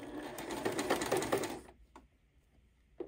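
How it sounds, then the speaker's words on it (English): Sewing machine stitching a pocket onto a child's sweater, a quick steady whirring run of about a second and a half that stops abruptly, followed by a couple of faint mechanical clicks. "And then hand crank it again to lock it in and then start sewing."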